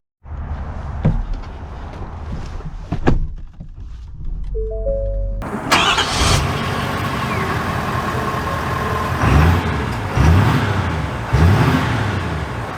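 A 2023 Ford Super Duty truck with the High Output Power Stroke diesel turns over and fires after a few quiet cabin clicks, then settles into a loud, close idle with several brief revs.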